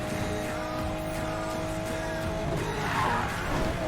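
Tire squeal from a car drifting in Need for Speed Payback, a sustained high screech over a steady engine roar, swelling louder toward the end, with no talk.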